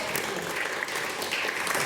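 Audience applause at a festival pre-show talk for the revival director, a steady dense wash of clapping from a room full of people, moderately loud and continuous with no talk over it.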